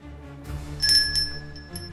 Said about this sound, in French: on va commencer par la petite cloche